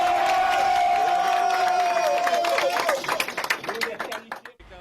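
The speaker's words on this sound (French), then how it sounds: "Vous êtes qualifiés, applaudissez pour vous-même" Football team in Cameroon clapping and cheering for itself after qualifying for the second round, a mix of shouts and voices that gives way to scattered individual claps dying out.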